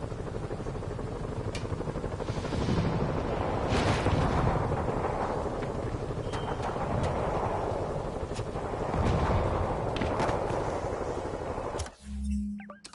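Distant gunfire and explosions in Marvel's Spider-Man video game, a steady rumbling battle bed with scattered sharp shots over about twelve seconds, fairly quiet and without talk.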